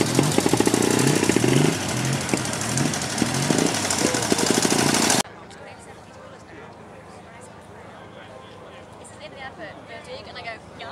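Vintage Triumph motorcycle engine running loud and close, a dense steady roar that cuts off abruptly partway through, leaving quieter background noise and faint voices.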